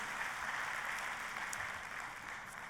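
A church congregation gives a lively round of applause, a soft, even patter of many hands heard at a distance and quite faint.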